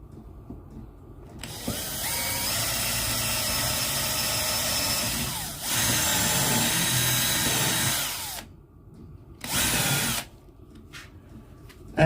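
Power drill driving a screw into pine wood: two long, loud whirring runs with a short pause between, then a brief final burst, with no talking.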